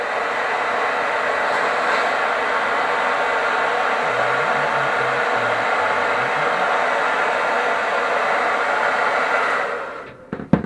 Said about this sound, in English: So, let's just hair dry that off for a second.